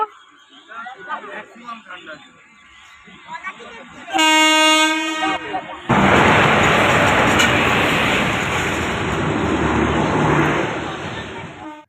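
A train pulls into Shamsi railway station. Voices talk at first, then a loud horn blast sounds for about two seconds, followed by a heavy, sustained rumble of the train close by.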